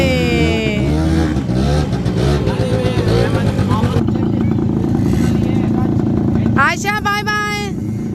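A quad bike engine revs and drones on the red desert sand near Riyadh, a continuous mid-distance motor hum with rising pitch sweeps, heard under close talking from family members.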